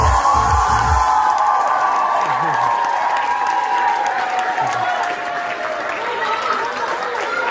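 Loud applause and cheering from a crowd at a children's circus camp show, sustained throughout, with a brief voice at the start and a steady roar of clapping.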